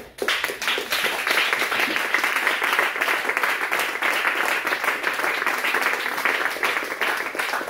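Dense, steady applause from a church congregation at a prayer meeting, many hands clapping together at once, loud and continuous across the whole stretch without pause.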